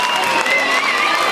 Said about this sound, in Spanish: Ese saludo, ese aplauso.